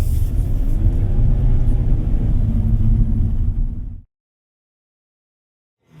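Heard from inside a 2025 Hyundai Stargazer X on a road, a steady low engine and road rumble runs for about four seconds, then cuts off abruptly into silence.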